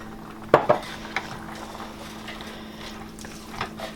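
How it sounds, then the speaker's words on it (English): A spoon scrapes and clinks in a pot as cannellini, black and pinto beans are stirred into chicken and pumpkin chili over medium-high heat, with a couple of sharp clanks and then quieter stirring over a faint hum. "We're just going to stir these in as well"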